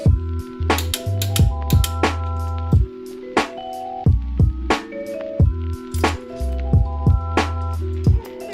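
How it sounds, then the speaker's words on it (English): A ratchet is tightening the bolts from the up pipe to the turbo on a 2006 Subaru WRX, giving short bursts of metallic clicking and creaking tonal squeaks in an irregular rhythm, close up and alone. "Now I'm going to tighten these 5 bolts down here again from the up pipe to the turbo"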